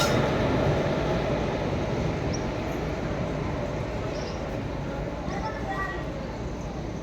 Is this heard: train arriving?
yes